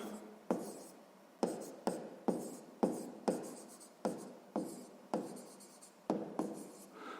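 A pen writes on paper while working a sixth-grade math proportion exercise about fabric and suits. The scratching comes close up in repeated bursts of strokes with short gaps between them, and no one speaks over it.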